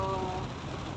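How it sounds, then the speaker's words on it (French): Heavy rain pours down in a sudden downpour, a steady dense hiss of water that runs unbroken through the moment with no speech. "il pleut tellement d'un coup"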